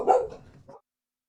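Several dogs reacting to a home delivery let out one short, close bark with a trailing yelp before the sound cuts to silence.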